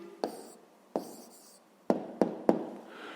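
A pen scratches across paper in short strokes during a fifth-grade math exercise, five quick, crisp bursts spaced unevenly over a few seconds, close and quiet with no voices.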